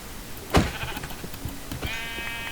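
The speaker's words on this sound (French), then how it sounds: "Ok, un mouton." A sheep in the Minecraft video game gives a single sharp bleat near the start, followed by faint in-game ambience and a steady high tone toward the end.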